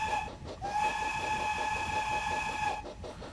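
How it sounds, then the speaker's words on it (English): Steam whistle of a 040 saddle tank locomotive on the Lavender Line, one sustained steady blast of about two seconds over background rumble. "Don't forget to check for people at the crossing and give a whistle."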